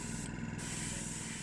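Spray paint hisses steadily and close up onto a 1972 Matchbox No 32 Maserati Bora model car, one unbroken jet with no pauses or talk.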